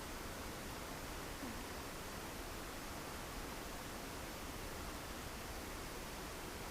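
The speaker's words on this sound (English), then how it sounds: "Little waterfall." Small waterfall pouring in a steady, even hiss of rushing water, faint and continuous with no other sounds standing out.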